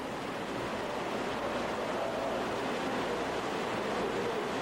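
Inside a limestone cave, a waterfall gives off a dense, steady roar that holds at a constant loud level throughout, with no other sounds.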